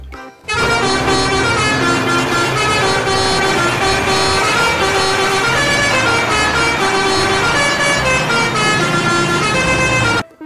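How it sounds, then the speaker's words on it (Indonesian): A toy concrete mixer truck sounds off with a loud, continuous electronic tone, layered and siren-like with horn-style notes, holding steady for about ten seconds before cutting off abruptly; no one speaks. "mobil truk molen."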